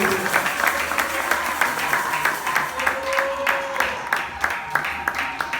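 A church congregation claps in a steady rhythmic beat while praising the Lord, a loud, evenly paced applause with voices and a sustained tone underneath.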